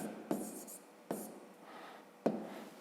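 Pen writing an answer in a school maths exercise book, heard as a few soft scratchy strokes with sharp taps where the tip meets the paper, close and quiet.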